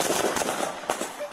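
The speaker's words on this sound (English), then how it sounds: "Central, we got a man with an AK-47." An AK-47 fires a burst of several sharp, cracking shots in quick uneven succession, with a voice faintly audible beneath the gunfire.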